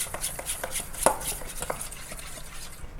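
Honey and sauce being mixed in a bowl, with a quick run of light rhythmic taps and scrapes from a utensil, close but soft, and no speech.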